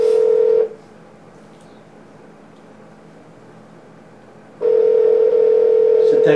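A telephone call rings out in two long, loud tones separated by several seconds of quiet line hiss, with a voice faintly audible.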